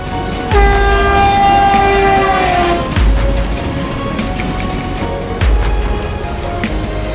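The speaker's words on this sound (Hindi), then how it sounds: "ट्रेन एक खूबसूरत पहाड़ी इलाके से गुजर रही थी।" A passenger train rolls through hilly country, its loud wheel rumble steady throughout, with three long horn blasts sounding at roughly even intervals over the track noise.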